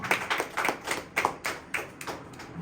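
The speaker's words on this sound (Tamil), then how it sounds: "கைத்தட்டி ஆண்டவரை மகிமைப்படுத்துவோம்" A congregation at a Tamil Christian sermon claps to praise the Lord, a moderately quiet burst of uneven, overlapping hand claps in a loose repeating rhythm.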